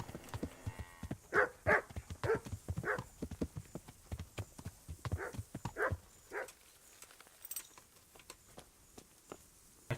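Rhythmic hoof clip-clops from a horse in the video game Kingdom Come: Deliverance, a steady trotting pattern of sharp knocks that stops partway, leaving a quieter stretch with a faint high chime.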